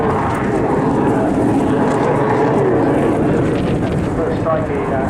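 BAC Strikemaster jet with a Rolls-Royce Viper engine at Eastbourne airshow, a loud steady roar with wind buffeting throughout, a commentator's voice faintly underneath.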